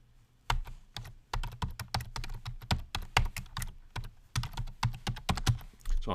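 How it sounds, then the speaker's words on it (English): Email address being typed on a computer keyboard: a steady, close run of quick, crisp key clicks with short pauses, and no voices. "So I'm going to type in the email address that's associated with the channel that I want to create."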